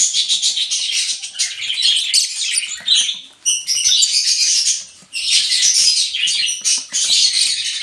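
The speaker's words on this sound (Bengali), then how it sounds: "আমার এই লাভ বার্ডগুলা অনেক চঞ্চল" Lovebirds chirping rapidly and continuously at close range, a busy chatter of high, shrill tweets with brief pauses.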